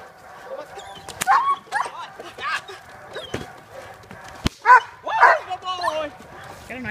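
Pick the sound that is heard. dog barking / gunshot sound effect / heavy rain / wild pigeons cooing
dog barking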